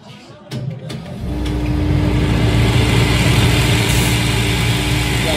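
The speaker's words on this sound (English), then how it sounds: "Then I'm going to take it over here to the sander and sand it." A finisher sander whirs up from a few clicks into a loud, steady mechanical drone as a cowboy boot heel is sanded in a shoe repair shop, close and continuous.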